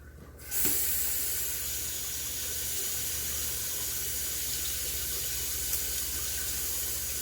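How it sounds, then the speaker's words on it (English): Steady rush of water from a running kitchen tap while something is rinsed under it, a continuous close hiss with no talking. "Let me go rinse this off."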